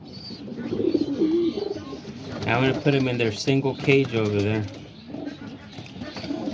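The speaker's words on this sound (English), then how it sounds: "there's all the pigeons right here" Pigeons coo softly in a backyard pigeon loft on a rainy day, low murmuring calls sitting beneath a man's close, steady talking.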